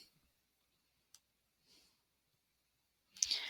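Mouse clicks on a Chromebook: a few sparse, faint, sharp clicks in near silence, then a louder burst of clicking at the end.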